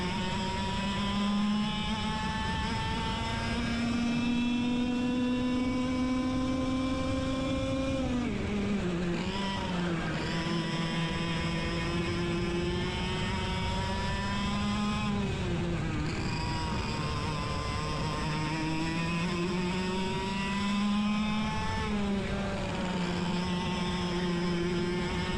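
100cc racing karts at speed on a track, a steady high-pitched two-stroke engine whine held near, dipping in pitch when braking into corners around ten and sixteen seconds, then climbing again as it accelerates.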